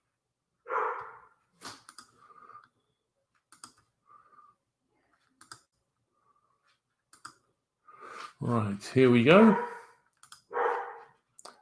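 Indoors, a dog lets out a short burst of loud barks amid scattered clicks and quiet gaps, with a person talking nearby.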